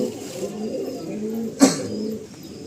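Pigeons coo in low, throaty, continuous phrases close by, broken once by a brief sharp knock or flap midway.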